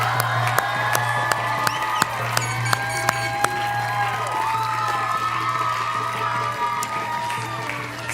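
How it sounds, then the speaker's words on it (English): An outdoor crowd at a high school senior send-off claps, cheers and whoops, with children shouting among them; the sound is loud and busy, with sharp claps standing out over a steady roar. "Give them a round of applause."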